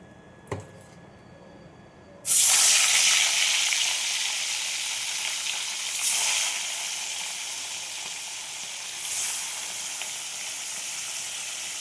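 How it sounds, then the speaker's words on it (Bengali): Fish drops into hot mustard oil and a loud sizzle bursts out after a faint tap. The hiss stays dense and close, swelling twice more as pieces are turned or added. "মাছগুলো ভেজে নেব। এখানে সর্ষের তেল দিয়ে দিয়েছি, গরম হয়ে গেছে।"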